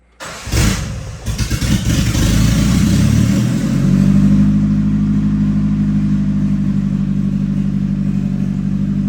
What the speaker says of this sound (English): Well, it's running.